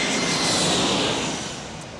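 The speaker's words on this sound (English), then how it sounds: "Here is an A321 from Detroit for Delta Airlines." A Delta Air Lines Airbus A321 jet arriving from Detroit at San Diego International Airport gives a loud, broad engine roar that fades slightly over two seconds, with no talk.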